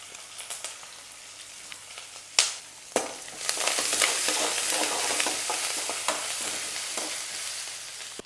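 Green chillies, curry leaves and grated ginger fry in hot oil for rava pongal, giving a steady crackling sizzle with a few sharp pops and stirring scrapes, close and alone without talk.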